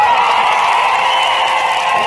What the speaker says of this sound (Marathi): त्यावेळी टाळ्या आणि जोरदार घोषणाबाजीनं परिसर दुमदुमून गेला होता